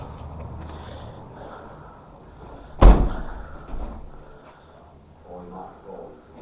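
A fire door in a depot building swings shut with one loud, close slam, followed by brief rattling and quieter room noise with faint voices nearby.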